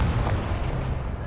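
A Confringo blasting spell bursts in Hogwarts Legacy combat, a loud, dense, rumbling boom that fills the whole moment with heavy low-end roar.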